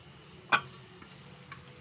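Beef and liver with green masala cooking on a tawa, a soft steady sizzle with one sharp clack of a utensil near the start and a few lighter taps after.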